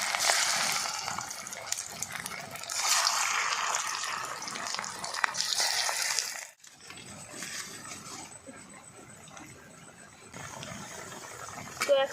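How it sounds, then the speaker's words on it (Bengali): Pieces of a semolina and raw potato snack fry in hot oil with a loud, dense, hissing sizzle for several seconds. The sizzle then drops to a quieter, steady bubbling, and a voice speaks briefly near the start. "ভেজে নিচ্ছি।"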